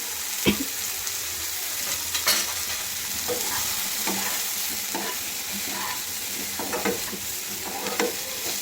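Mushroom pepper fry stirred in a pan with pepper powder, coriander powder and salt, a steady close sizzle punctuated by irregular spatula scrapes, no voices.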